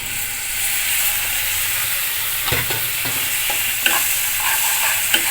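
Spices frying in a pan for a Bengali fish-head muri ghonto, with a splash of water added; a loud hissing sizzle runs throughout, broken by a few sharp stirring knocks and scrapes, no voices.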